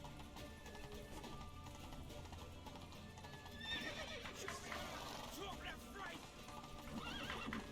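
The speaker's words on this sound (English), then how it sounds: "This horse is worse than Roach." A horse in the video game The Witcher 3, hooves clip-clopping in a quick run under game music, then loud, high whinnying neighs rising from midway to the end.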